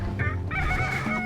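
Chickens cluck and squawk close by in the morning at a desert camp in Wadi Disah, Saudi Arabia, several birds calling over each other in a brief noisy burst.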